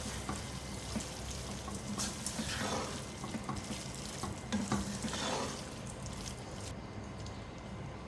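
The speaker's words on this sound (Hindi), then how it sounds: "मिक्स करेंगे इसको।" Minced meat qeema being stirred with salt, turmeric and red chili powder in a pan, a steady close scraping and sizzling with soft clinks of the spoon, continuous throughout with no talking.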